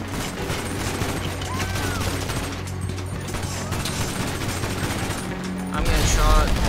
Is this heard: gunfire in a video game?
yes